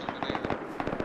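Gunfire in the survival video game Rust: a quick series of sharp cracks and pops in two bursts, moderately loud and close, with no talk.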